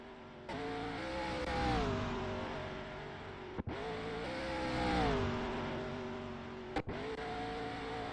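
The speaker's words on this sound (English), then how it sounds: "going to go do a whole burnout across the entire track" A race car at Talladega, just after winning, performs a burnout across the track: a loud, sustained engine roar with rising and falling revs over about eight seconds, briefly cut by two sharp dropouts.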